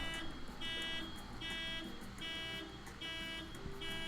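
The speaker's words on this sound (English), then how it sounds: "a car alarm goes off" A car alarm sounds outside through a window, repeating a pulsing electronic tone in regular bursts at moderate distance over a low room hum.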